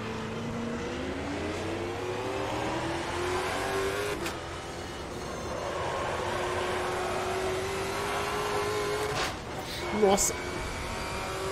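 A Stock Car Brasil race car engine in Automobilista 2 at Hockenheimring roars steadily and close, its pitch climbing and dipping through gear changes, with one brief exclamation from a voice over it.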